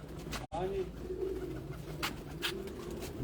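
Parwazi pigeons coo softly and repeatedly at close range, with a brief break near the start and a voice talking over part of it.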